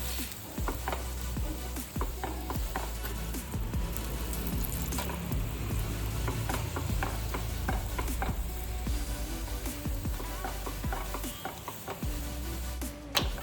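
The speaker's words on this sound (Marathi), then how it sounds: "छान असं आपला पराठा भाजून घेऊ" An aloo paratha roasts in oil on a pan, with a dense continuous sizzle and frequent scraping, clicking touches of a spatula at close range, loud and steady with no voices.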